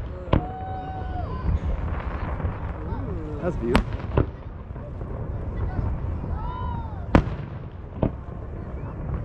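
Fourth of July fireworks bursting over Big Bear Lake in California, with sharp booms and crackling pops at scattered moments against a steady rumble and whistling trails, while nearby people talk and react.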